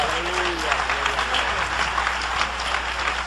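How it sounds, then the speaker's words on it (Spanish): A church congregation applauds steadily at close range, a dense continuous clapping with some voices mixed in throughout. "Dale un aplauso al Cordero de Dios."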